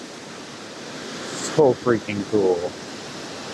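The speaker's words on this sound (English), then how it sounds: "a perfect cascade of water tucked away in the forest" Lady Falls, a waterfall cascading in a forest, gives a steady broadband rush of water throughout, with someone talking excitedly over it near the end.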